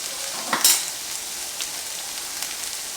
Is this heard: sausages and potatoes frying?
yes